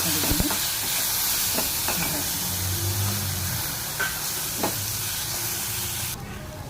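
Chopped tomato going into a hot pan while making tulsi rasam, with a steady broadband sizzle and hiss of frying throughout, plus a few stirring clinks and scrapes near the start.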